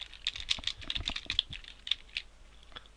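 Light, rapid keystrokes on a computer keyboard while code is typed for a Unity 3D game, heard up close as a steady patter of clicks.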